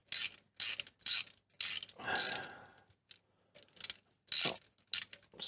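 Ratchet clicking in short repeated bursts while removing cylinder head studs on a 1966 Triumph Spitfire Mk II, close and crisp, with a scraping turn in the middle.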